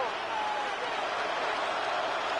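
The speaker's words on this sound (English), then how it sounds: "This crowd turning up the decibel level." A loud football stadium crowd at a Broncos game roars as a steady, dense wall of noise that stays at full volume without break.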